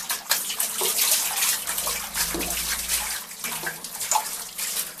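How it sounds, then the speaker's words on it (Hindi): Water splashing and spattering as a bunch of auto-filling Holi water balloons is shaken, a steady close, wet hiss with scattered splashes throughout and no talking. "पानी के छींटे आ रहे"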